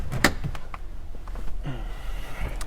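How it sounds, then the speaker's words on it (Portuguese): A Toyota Corolla's car door is opened with a sharp latch click and a soft thump, followed by low cabin rustling and faint sliding sounds, close by with no talking. "deixa eu abrir a porta para vocês aqui."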